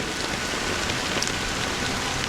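Steady rain falls in Penacony in the video game Honkai: Star Rail, a dense, even hiss of drops on surfaces with no pauses and no voices.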